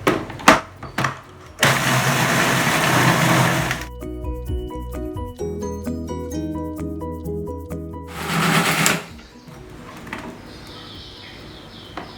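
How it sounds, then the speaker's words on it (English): A blender whirs loudly in bursts while blending chili paste, stopping and restarting, with a steady grinding motor roar between pauses and some clinking and handling noise. "And blend this as finely as possible."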